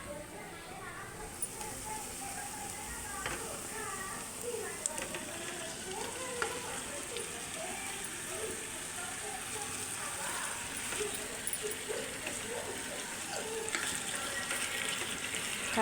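Chicken pieces frying in hot oil in a pan for gongura chicken curry, a steady close sizzle with light clatter throughout, under a voice talking.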